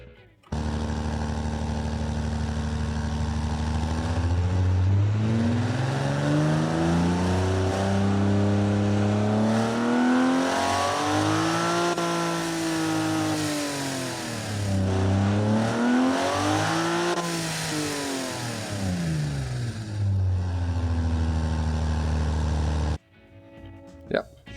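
A Gordini T23S engine revs on a test bench in the BeamNG video game, its synthetic tone sweeping up and down through several long rises and falls, loud and continuous before cutting off abruptly near the end.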